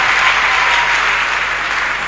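A church congregation bursts into loud, sustained applause, a dense wash of clapping filling the room without pause.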